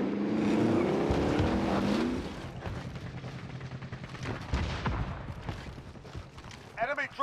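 A vehicle engine droning while driving in Call of Duty Warzone Rebirth, a loud rumbling roar at first that drops to a lower, uneven hum with scattered game noises and faint talk.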